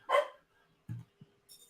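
A dog barks once close by with a sharp yelp, followed by a couple of shorter, lower woofs and a faint whimper.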